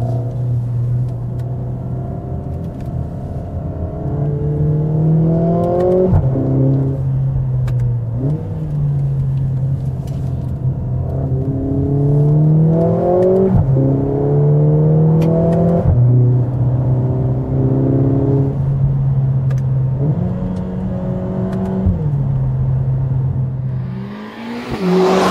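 Engine of a 2021 Mercedes GLA 45 S AMG driven through corners, rising revs in repeated pulls broken by sharp gear shifts, loud and close with a steady rumbling tone and no talk.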